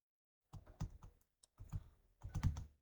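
Close, quiet keystrokes on a computer keyboard while entering text in a Microsoft Word document, with a few short clusters of clicky taps separated by brief pauses.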